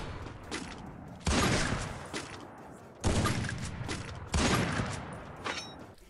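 Gunfire in a Garena Free Fire match on a factory roof: three loud, booming shots spaced a second or two apart, each with a long rumbling tail, close and dominant with no speech.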